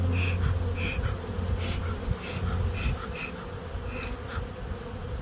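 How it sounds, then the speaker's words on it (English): Honey bees swarm around a hive in spring, making a dense, continuous buzz with individual bees droning close by now and then over a low background hum. "Look at all them bees."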